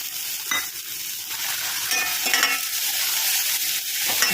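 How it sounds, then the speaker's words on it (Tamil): Tomatoes sauté in a pan with a loud, constant hissing sizzle and occasional soft spatula scrapes as they are stirred, close up with no talking. "நல்லா வதங்கட்டாங்க தக்காளி நல்லா வதங்கிருச்சுங்க"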